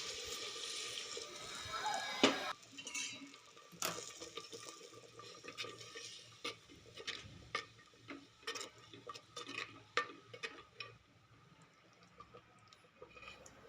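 Hot water splashes and pours into a pan of sautéed masala for misal curry, followed by scattered clinks and taps of utensils as the liquid settles.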